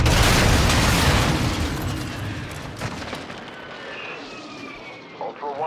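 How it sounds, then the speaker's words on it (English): Heavy, loud rumbling blasts and roaring aircraft noise from an airstrike in the DMZ shooter game, strongest at the start and fading to a steady din, with a few later bursts and radio-style chatter over the top. "Hostiles called in an airstrike."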